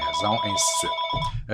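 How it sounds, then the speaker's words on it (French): A telephone rings with a steady electronic tone that runs through the whole stretch under someone speaking French. "Je vous laisse, c'est le téléphone"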